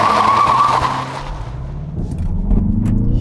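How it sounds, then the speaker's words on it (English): Tires squeal and skid loudly as a Mazda 3 Turbo launches hard with front-wheel spin, the engine roar rising beneath the screech. "Quite a bit of wheel spin coming from the front there"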